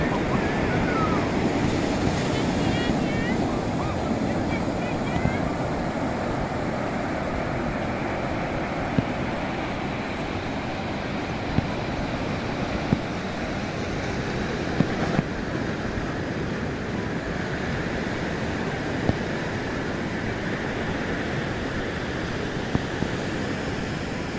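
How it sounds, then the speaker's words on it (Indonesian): Sea waves roll steadily onto a clean beach at Pasi Ujoeng Seuke in Bireuen, a continuous close surf wash mixed with gusts of wind noise and a few faint knocks, no voices. "Kita lihat ini lautnya."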